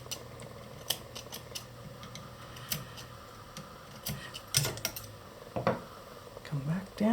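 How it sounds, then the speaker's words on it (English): Scissors snip woven threads off a rigid heddle loom in sharp, close, irregular cuts, with a few louder clusters near the end and faint background noise. "I'm just going to cut a few more here."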